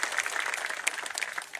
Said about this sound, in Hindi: जोरदार तालियों के साथ स्वागत प्रधान जी का।